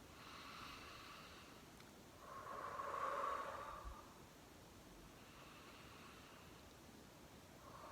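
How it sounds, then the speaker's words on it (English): Slow, deep breaths drawn in and let out, soft and airy against a quiet hissing background, with one fuller swelling exhale near the middle. "let's take 3 long breaths at this place together"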